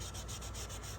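Rough, rhythmic scrubbing of the skin off a soaked gourd, quick back-and-forth rubbing strokes, close and fairly quiet with no talking.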